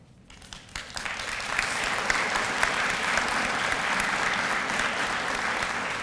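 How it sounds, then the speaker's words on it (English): Applause at a fall nursing pinning ceremony, swelling from scattered claps into a broad, steady ovation from a large seated audience that holds evenly at moderate distance. "You too should be applauded"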